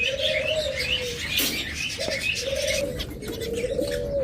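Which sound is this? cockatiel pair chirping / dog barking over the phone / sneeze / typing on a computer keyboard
cockatiel pair chirping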